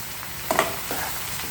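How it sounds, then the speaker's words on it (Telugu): A couple of soft scraping stirs of bottle gourd in a small frying pan over a faint background sizzle, brief and close. "ఈ ఆనపకాయ వేసుకున్న తర్వాత మనం దీన్ని ఒకసారి పోపు అంతా కలిసేలాగా మనం కలిపిస్తున్నాం"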